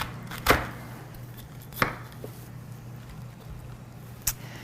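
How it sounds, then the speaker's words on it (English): A knife chops through a small head of cabbage on a board with a few sharp, separate thuds spaced out over a quiet background hum, no talking. "So we're going to cut it in half."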